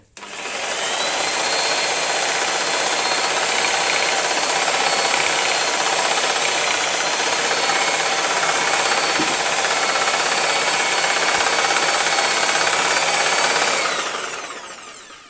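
A reciprocating saw fitted with an AliExpress attachment works against metal at its second speed setting, giving a loud, steady buzzing rattle that runs unbroken for about thirteen seconds before it stops.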